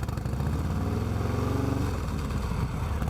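A motorcycle with an S&S Cycles 475c cam and Cobra El Diablo exhaust holds a steady loud throb at 3000 RPM, a close, constant rumble with no speech.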